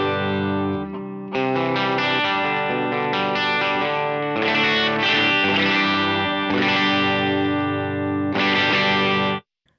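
Electric guitar played straight through stock Tonex pedals with no effects, a steady run of strummed chords and sustained notes filling nearly ten seconds before stopping abruptly.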